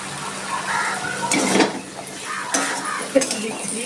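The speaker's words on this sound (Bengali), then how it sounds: "আমার মশলাটা কষানো হয়ে গেছে আমি কাঁঠালের বীজগুলো এর মধ্যে দিয়ে দিচ্ছি" Jackfruit seeds are tipped into a pan of cooked masala, with metallic clinks and scraping in short bursts over a soft background sizzle.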